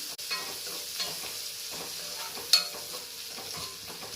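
Small dried shrimp fry in hot oil in a pan, giving a steady low sizzle with soft stirring scrapes and one brief sharp clink near the middle, with no voices.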